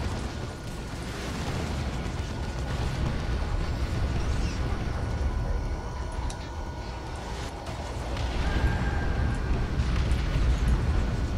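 An artillery strike in Warhammer 40k Dawn of War II Chaos Rising pounds away with dense, rumbling explosions that blur into one continuous thunderous roar, with bursts and pops lasting throughout and no voices.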